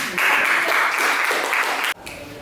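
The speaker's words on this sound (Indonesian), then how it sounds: "Beri aplaus untuk kelompok 2." Applause for a student group fills a classroom, a dense burst of many hands clapping together for about two seconds before stopping abruptly.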